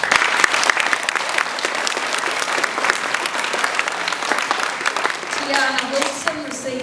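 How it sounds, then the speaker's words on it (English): An audience at a school prizegiving applauds an award recipient with loud, sustained clapping from a crowded hall that fades near the end as a voice begins to speak. "You may applaud."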